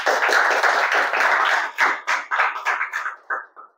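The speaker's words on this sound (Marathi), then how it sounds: "जरा जोरात टाळ्या होते सर्वांच्यासाठी" Students at a lecture clap together in a dense, close burst of applause that thins into scattered individual claps before fading out.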